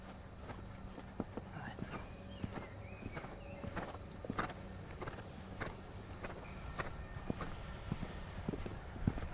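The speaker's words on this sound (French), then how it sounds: "Tu peux galoper, chérie." A horse's hooves clip-clop steadily across the ground during a riding session, with a rider's voice heard now and then over the footfalls.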